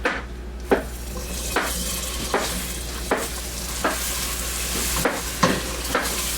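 Butter sizzles in hot melted sugar in a pan, a loud continuous hiss broken by regular scraping knocks of a spoon stirring about once a second, with no talk.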